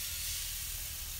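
Local bison meat sizzling over the fire in a Barrel House Cooker, a steady, close hiss with no break that fills the short moment with no voices.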